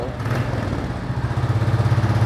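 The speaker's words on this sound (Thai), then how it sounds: "คันนี้ครับยังคงเป็นท่อเดิมนะฮะเดี๋ยวฟังเสียงท่อคันนี้กัน" A 2022 Royal Enfield Classic 350 on its stock exhaust idles steadily nearby, with an even, low, thumping pulse that grows a little more pronounced toward the end.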